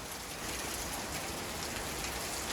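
Steady rain falls on a courtyard on a Diwali evening, a dense even hiss of drops on surfaces, heard alone without a break.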